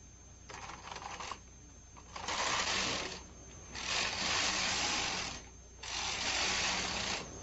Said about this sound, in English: Rethread the carriage and knit regularly until you have the number of rows you need for your ribbing.